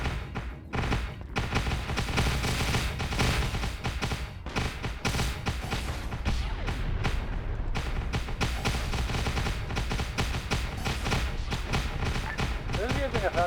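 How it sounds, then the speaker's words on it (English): Heavy sci-fi weapon fire, including a plasma cannon, pounds through a chaotic video game battle on Tembelan Island, with dense bursts and thuds running nearly continuously and loud under intermittent radio chatter. "Who's using a fucking plasma cannon back there?"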